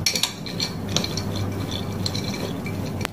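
Dried fruits for a plum cake are shaken and mixed inside an airtight bottle, producing continuous close rattling and clicking, with a sharp knock near the end.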